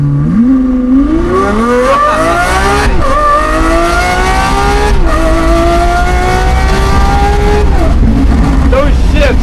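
A Lamborghini Aventador accelerates hard, its engine note climbing in sweeping rises broken by quick gear shifts, loud and close throughout, with people talking over it.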